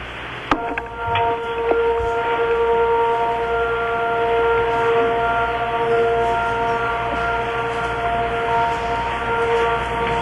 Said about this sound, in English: the sound of air raid sirens tonight